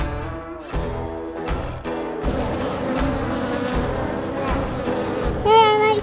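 Honeybees buzz around an opened beehive, a close, steady droning hum with individual bees swelling past the microphone, while people speak quietly nearby.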